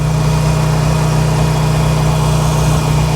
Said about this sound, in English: Oh, I missed riding a motorcycle.